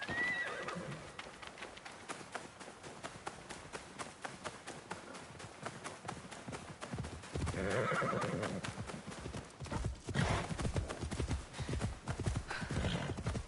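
In the video game Assassin's Creed Shadows, a horse gallops with continuous, rapid, loud hoofbeats in a driving rhythm that fill the whole stretch, with occasional louder swells.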